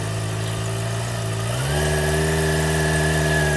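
Motorcycle engine running steadily just before the rider pulls away, a continuous loud hum that steps up in pitch partway through as the revs rise and hold.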